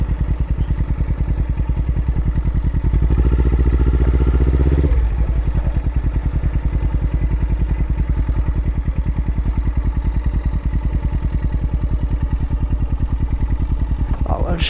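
A Suzuki GS500EY motorcycle rides over potholes on a rough off-road stretch, its engine thrumming steadily up close with a rise in revs partway through and some clattering over the bumps.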